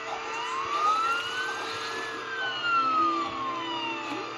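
A police car siren in the Roblox video game wails steadily, its pitch gliding up and down over a constant engine-like drone, loud and continuous with no talking.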